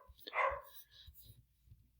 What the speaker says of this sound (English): Sorry for the dog barking in the back.